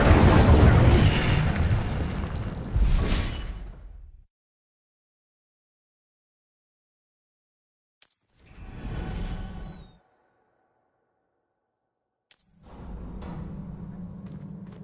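An Incendio fire spell is cast in the Hogwarts video game. It lands as a few separate whooshing, booming bursts, each one short and fairly loud, with silent gaps in between.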